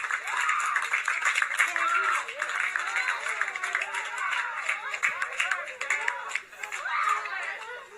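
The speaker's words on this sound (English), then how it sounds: "They all are clapping." NASA team members clapping and cheering after the Perseverance rover's Mars landing, continuous scattered applause mixed with excited voices and chatter throughout.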